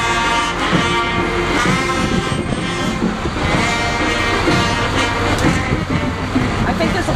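Cameron Fire Department fire truck, engine number 8, rolling past in a St. Patrick's Day parade, a loud sustained engine roar with horn-like toots amid crowd noise and people talking nearby.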